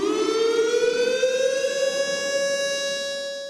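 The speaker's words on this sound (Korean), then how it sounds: "추모 사이렌이 울리자 모두 묵념합니다" A memorial siren sounds alone on the anniversary of an airliner crash at Muan Airport, a loud, sustained wail that rises in pitch and then holds steady.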